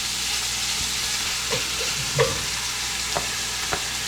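Wild boar meat sears in a hot pan with garlic and onions, giving a steady close sizzle and hiss, punctuated by a few soft scraping stirs and light knocks.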